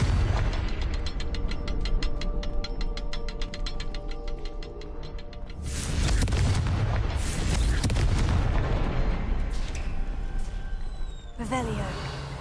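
A Confringo fire spell explodes in Hogwarts Legacy, a heavy booming blast with crackling debris that follows a rattling mechanical sequence, loud and full over game sound, with a voice speaking briefly.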